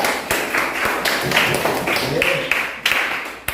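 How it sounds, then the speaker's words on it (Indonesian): A classroom of students claps for a classmate after a correct math answer, a short burst of scattered, uneven hand claps with sharp individual slaps mixed with talking voices. "Tepuk tangan untuk Raya juga"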